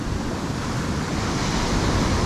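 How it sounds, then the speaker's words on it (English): Ocean swell crashes onto a sandy beach where deep water meets the shallows, making a loud, continuous roar of surf with wind rushing across the microphone and no voices. "Waves are crashing at the edge,"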